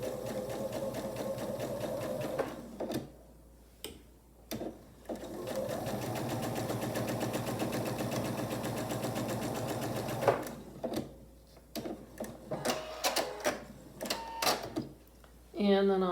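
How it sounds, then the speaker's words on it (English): A sewing machine with a quarter-inch presser foot stitches a seam on a quilt block in a long, steady mechanical whir, then runs in short stop-start bursts with small clicks; a voice talks in the pauses. "I'll take it to the machine and I'll sew a 1/4 inch seam allowance here and here"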